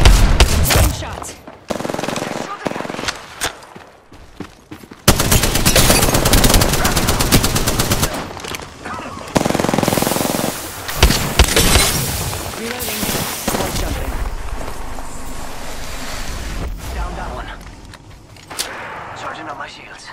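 An enemy shooter in a video game fires loud, rapid automatic bursts, sharp and close, broken by short pauses and then resuming in long volleys with heavy booming reports.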